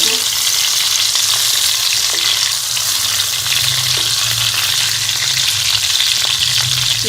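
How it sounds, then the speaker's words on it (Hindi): Stuffed tomatoes fry in a pan, the home-cooked bharwan tamatar giving a steady, loud hiss of oil and sizzle that runs unbroken throughout, with faint soft knocks now and then and no talking. "इसकी साइड को जो चेंज करते रहेंगे ताकि टमाटर जो हो अच्छी तरह से पक जाए"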